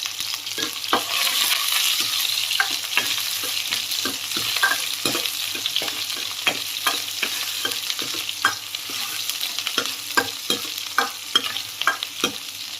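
Steady sizzling of onions frying in a pan with repeated scraping and stirring clicks throughout, close and fairly loud, no talking.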